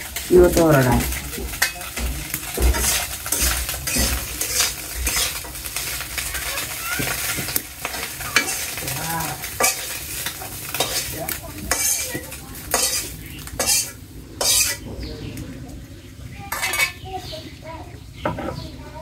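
Fried puti fish lifted out of a sizzling pan, with repeated metal spatula scrapes and clinks against cookware over a faint background fry; a voice speaks at points.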